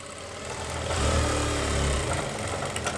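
A sewing machine stitches along a kurti neckline, its motor whirring up into a steady, buzzy run that swells in the middle and then drops back to a softer hum, with nobody talking.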